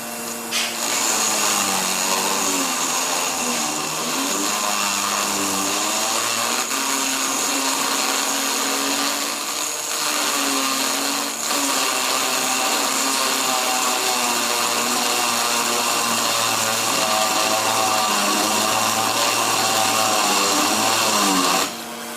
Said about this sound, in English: And also grinding the overlaid part with grinder or file